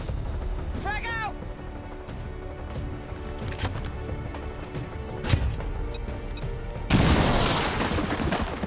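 A frag grenade explodes in the tactical game XCOM 2, a heavy burst near the end following earlier thuds and gunfire, with game effects and background voices.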